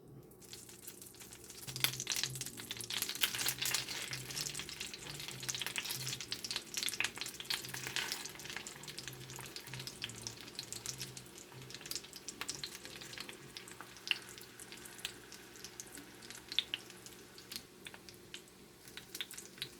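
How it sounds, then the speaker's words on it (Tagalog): Jumbo burritos frying in butter in a pan, a continuous crackling sizzle with scattered pops, fairly close and steady for the whole stretch, with no talking. "we're gonna use butter to fry this, our burritos"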